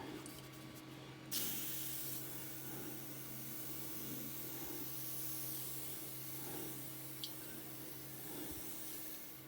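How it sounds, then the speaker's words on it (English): A steady, soft WD-40 aerosol hiss runs for several seconds after a brief faint start, a light continuous spray with a low hum underneath. "I'm going to spray it down for the final time with WD-40"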